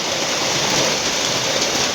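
Heavy rain pours steadily through the night at a pig pen, a dense, loud, unbroken rushing hiss with no voices.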